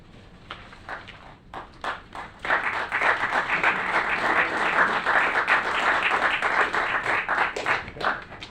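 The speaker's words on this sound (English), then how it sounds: "you heard the applause, right?" Applause breaks out at a city council meeting: a few scattered claps first, then a fuller, steady round of clapping from the chamber that carries on for several seconds.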